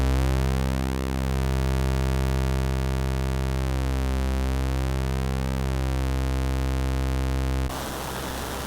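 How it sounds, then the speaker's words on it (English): Cre8audio East Beast synthesizer drones steadily, a bright buzzy sawtooth and hollow square wave layered with slow sweeping movement, loud and alone for most of the span before switching abruptly to a hiss of noise near the end. "Sawtooth and a square."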